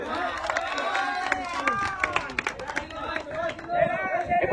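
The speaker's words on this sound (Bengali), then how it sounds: "একটা করতালি হবে" Applause and scattered clapping for the man-of-the-tournament award at an inter-college football tournament ceremony, crowd chatter and cheering mixed in, fairly near, under a voice speaking over a microphone.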